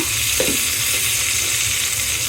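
Vegetables frying in a pan with salt and garlic paste, a loud, continuous sizzle with a brief stirring scrape early on, close up.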